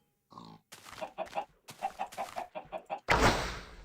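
A Minecraft video game chicken clucks in a quick rhythmic series of short bursts, close and clear, ending in a louder rush of noise.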